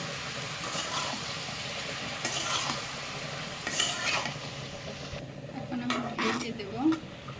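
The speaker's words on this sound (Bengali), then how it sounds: "দেখো আমি এখন সবজি তরকারিটাকে লাড়িয়ে দিয়ে এখন নামিয়ে ফেলবো।" Vegetable curry being stirred in a pot: a low sizzle runs underneath while spoon scrapes and metal clinks come in uneven bursts, close by, with a voice speaking over part of it.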